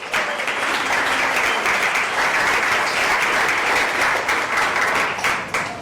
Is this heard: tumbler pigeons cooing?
no